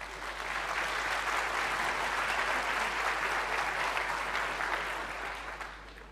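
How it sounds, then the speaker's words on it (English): A room full of people at a FOSDEM tech conference talk gives a steady round of applause, even and sustained for several seconds before tapering off near the end. "would welcome you all to give him a round of applause"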